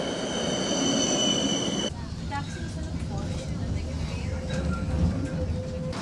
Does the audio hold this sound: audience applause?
no